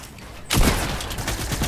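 Gunfire in the video game Fortnite erupts suddenly after a quiet moment, a loud sharp blast followed by a sustained crackling volley of shots.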